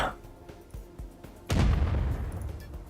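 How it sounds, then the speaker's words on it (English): A missile fired in the space game Dual Universe, a sudden heavy roaring blast that swells and rumbles on for over a second, preceded by a few soft clicks. "Missile away!"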